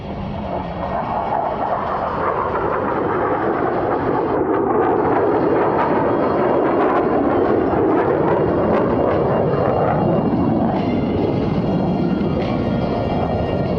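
Blue Angels jets flying opposing horizontal rolls at the 2024 airshow at NAF El Centro, a loud sustained jet roar that swells and shifts in pitch as the aircraft pass, with no talking.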